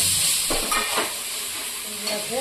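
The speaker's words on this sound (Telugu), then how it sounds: "ఇందులోకి అల్లం వెల్లుల్లి పేస్ట్ కూడా వేసేద్దాం." Ginger garlic paste fries in a pan for a gongura egg curry, giving a loud, steady hiss and sizzle with a few soft stirring scrapes and no talking.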